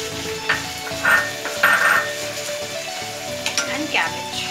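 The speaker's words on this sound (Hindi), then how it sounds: "इसको हम फ्राई करेंगे और इसमें सॉल्ट ऐड कर देते हैं अभी, ताकि ये जल्दी फ्राई हो जाए" Capsicum, beans, carrot and cabbage stir-fry in a pan with salt for veg chow mein, giving a loud, continuous sizzle broken by bursts of crackling and scraping spatula strokes.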